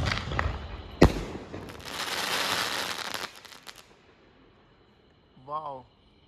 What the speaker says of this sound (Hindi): आज का फाइनल पटाखा स्काई शॉट